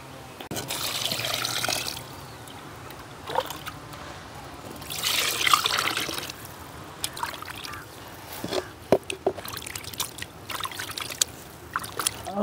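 Goat tripe being washed by hand with water outdoors in a village kitchen, intermittent splashing and trickling in bursts with quieter pauses, fairly faint and without talk.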